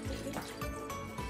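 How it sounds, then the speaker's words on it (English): Water is dumped out of a plate during a colour-changing chromatography science experiment, a quiet, short, splashing pour. "now we're going to dump the water"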